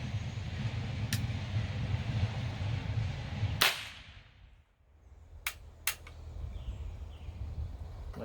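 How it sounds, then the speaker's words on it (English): A single sharp report from a .50 caliber Thompson Center muzzleloader rifle fired outdoors, a loud crack with a fading tail, followed by a couple of quieter distant pops against steady background noise. "This is a 50 caliber Thompson Center muzzleloader."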